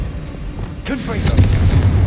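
A Confringo fire spell blast in Hogwarts Legacy, set in the Fieldcroft catacomb: a sudden burst at about the midpoint that settles into a crackling, booming rumble, with a voice briefly heard.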